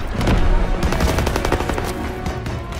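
Rapid suppressive gunfire pours out in a WW2 battle game, a dense, loud fusillade of overlapping shots with no pause.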